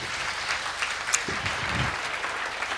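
A Tamil pattimandram debate audience gives a big round of applause, a continuous crackle of many hands clapping at moderate level, with a brief voice or shout partway through.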